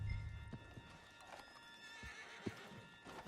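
Horse hooves clip-clop steadily on the ground in Red Dead Redemption 2, close and fairly loud, with a whinny heard among the hoofbeats.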